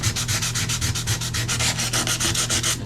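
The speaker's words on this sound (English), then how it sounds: "I'm gonna use the sandpaper and kind of etch it to get it ready for the epoxy." Sandpaper scrubs a glossy bathtub surface before epoxy is applied, making loud, close, steady back-and-forth rasping strokes in a quick, even rhythm with no voices.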